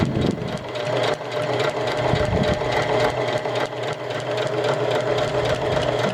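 A sewing machine runs steadily as it stitches a micro fleece pocket cloth diaper, a continuous close mechanical whir with a fast, even needle rhythm that briefly eases while the seam curves around the diaper's wing.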